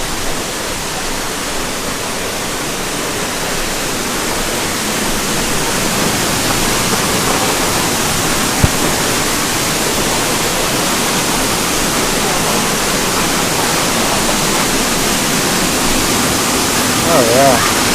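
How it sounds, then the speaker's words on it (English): A dense, roaring wash of falling water fills everything, constant and loud, like standing right beside or behind a powerful waterfall at Hanging Lake. "That's a lot of water coming down."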